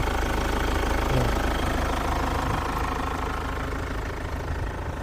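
A 2200cc VGT car engine with 59,000 km idles steadily with a low, even rumble and faint knocking texture, continuous and fairly close, with no voices.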